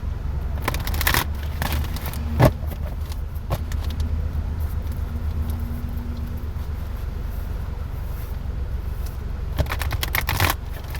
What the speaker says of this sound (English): Let me shuffle these a few times and see what comes out.